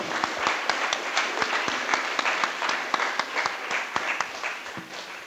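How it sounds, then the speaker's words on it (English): A modest audience at a Bitcoin developer workshop claps for the slide translators. Individual hand claps stand out sharply in an uneven, moderately paced patter. The applause is fairly quiet overall, as though heard from across the room. "So maybe just a round of applause for those guys."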